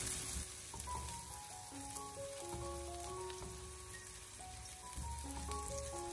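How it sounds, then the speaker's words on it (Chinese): Minced garlic and chopped bird's eye chili stir-fried in a little hot oil over low heat, a steady close sizzle that runs throughout while soft melodic background music plays along. "油热之后，把切好的蒜末、小米辣放进来。 用小火给它翻炒一小会，"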